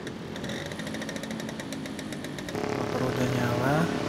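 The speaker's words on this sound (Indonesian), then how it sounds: "motor udah nyala" A Vespa scooter's small engine runs at a steady rattling idle, then rises louder partway through, with people talking over it throughout.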